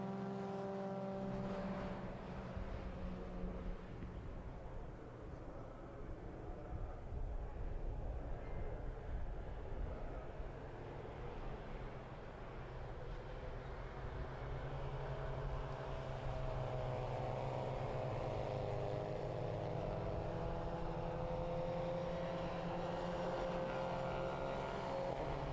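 Renault Clio Cup and Mazda Cup race cars circle the Brno circuit on a formation lap, a dense, continuous engine drone rising and shifting in pitch as the pack passes at a distance.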